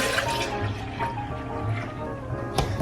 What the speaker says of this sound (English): after the mixture has cooled, you're gonna pour it into your ice cream maker, like so